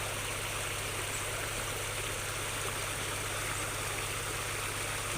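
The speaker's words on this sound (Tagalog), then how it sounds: "Mas malakas ang agos niyan" Stream water in the Quezon countryside rushes steadily, a constant hiss of flowing current with a low rhythmic hum beneath, no voices.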